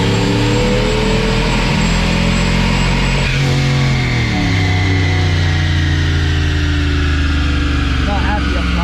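A Chevy Camaro on a dyno pull, its engine droning loud and close with rising and falling revs throughout, while people talk over the steady roar.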